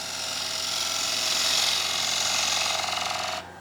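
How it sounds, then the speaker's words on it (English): Wood lathe cutting torn grain from a square wooden plate, a steady close scraping tool hiss with a fine chattering pulse that runs unbroken for over three seconds, then stops abruptly near the end. "Cutting that torn grain out"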